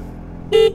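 A stock dual horn on a Yamaha Mio Sporty motorcycle gives a single short blast close by, a bright toot lasting under a quarter second after a low idling hum.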